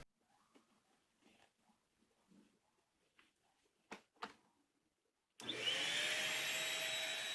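A stick vacuum cleaner fitted with a coffee filter pre-filter switches on partway through after quiet knocks and handling, then roars loudly and steadily with a high motor whine.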